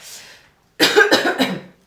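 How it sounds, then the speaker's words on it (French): Three quick, harsh coughs in a row, close and loud, after a brief trailing bit of voice and a short pause. "Pardon pour la toux."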